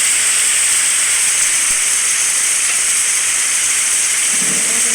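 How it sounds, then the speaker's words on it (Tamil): Rain falls in the video game 99 Nights in the Forest as a steady, dense hiss that fills the whole stretch evenly, loud and unbroken with no talking. "மழை பெய்யறது"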